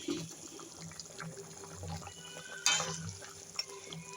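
Fish pieces go into a simmering Bengali fish curry broth with cauliflower, heard as soft close bubbling and liquid sloshing with a sharper splash partway through, no voices.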